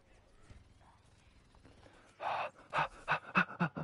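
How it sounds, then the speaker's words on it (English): Panting like a dog, heard during gameplay: after a quiet stretch, a series of loud, rapid, breathy pants come in quick rhythmic bursts close to the microphone. "panting like a dog"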